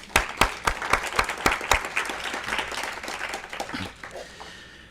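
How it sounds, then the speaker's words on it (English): A luncheon audience applauds awardees, beginning with a few sharp, loud individual claps and swelling into a dense round of clapping that tapers off near the end. "let's hear a round of applause."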